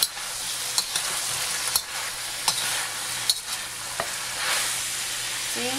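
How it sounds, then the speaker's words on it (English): Chicken adobo pieces fry and sizzle steadily in oil with a little sauce added while a spoon stirs them, sharp scraping knocks popping out every second or so over the constant hiss. "Now keep stirring in it."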